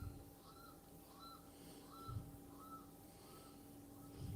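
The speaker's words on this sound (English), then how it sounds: "You hear birds." Birds call faintly in the background, a few short repeated cries spaced evenly about a second apart over a low steady hum, distant and quiet.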